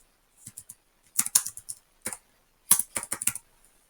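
Clicky computer keyboard keys tap in quick irregular bursts while a class name is typed, close and crisp, with short pauses between clusters of keystrokes and no talking.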